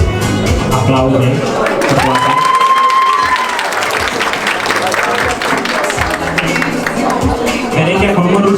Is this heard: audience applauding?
yes